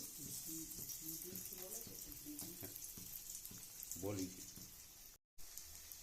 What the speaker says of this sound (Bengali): কত সুন্দর ভাবে ভাজা হচ্ছে